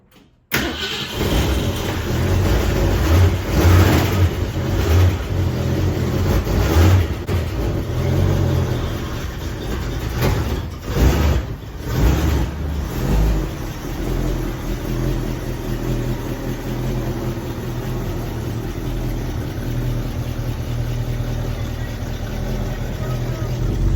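A 1965 Ford Mustang engine with a T5 manual transmission hums and rumbles steadily from inside the car, with occasional louder surges and brief voices underneath.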